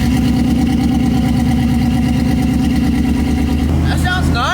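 Pickup truck with a new exhaust and 300,000 miles on it, engine idling with a deep, steady rumble close by, with a brief higher sound near the end.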